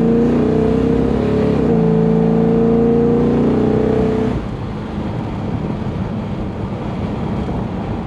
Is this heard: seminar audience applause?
no